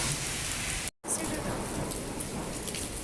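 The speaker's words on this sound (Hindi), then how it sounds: "ये देखिए पानी और बारिश देखिए कितनी तेज़ हो रही है" Heavy rain pours down in Makkah during a thunderstorm, a dense loud hiss of downpour on surfaces with a brief dropout near the start, then steady roaring rain.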